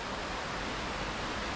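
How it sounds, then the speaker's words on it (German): Babbling mountain stream in an alpine valley of the Ticino Alps, a steady broadband rush of flowing water, close and continuous, with no other sounds. "plätschert der Bach"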